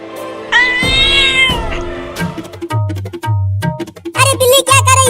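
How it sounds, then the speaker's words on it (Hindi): A cat meows loudly and repeatedly, with long drawn-out wails at first that turn into a rapid string of shorter, sharp meows. There is no talking. "अरे बिल्ली क्या कर रही है?"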